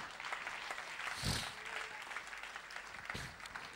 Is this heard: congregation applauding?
yes